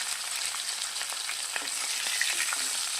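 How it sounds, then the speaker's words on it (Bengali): Koi fish fry in a wok with a dense, crackling sizzle and scattered sharp pops from spitting oil, steady and close, with no talking. "আগে কই মাছগুলো ভেজে নেব"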